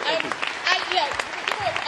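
An audience at a political talk applauds speaker Paul Mason with a brief, uneven burst of clapping, mixed with scattered voices and murmurs.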